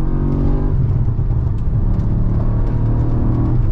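Tuned Audi RS4 Avant engine on a night drive: a loud, steady in-cabin engine drone with a continuous low rumble and whir that rises slightly at times, with no voices.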